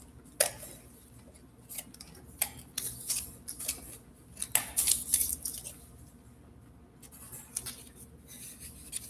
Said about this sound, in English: My scissors don't want to cut.